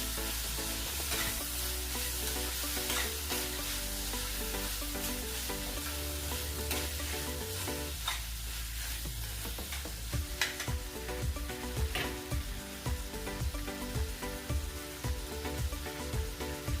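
Vegetables and whole tur beans for an akkha tur bhaji sauté in a pan, giving a steady, fairly loud sizzle with stirring scrapes and clinks of a spoon that grow busier toward the end, no voices.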